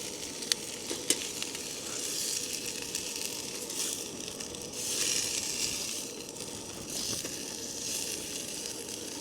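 Burgers sizzle and fry on a camp stove at a high wild camp on a cold fell, a continuous crackling hiss up close with occasional pops and scrapes and no talking.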